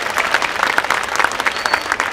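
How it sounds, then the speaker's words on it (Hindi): An audience at an Urdu mushaira poetry gathering claps steadily. Many hands patter in a dense, fairly loud burst for about two seconds, with a faint voice underneath. "आपकी तालियां कमजोर हैं दोस्तों"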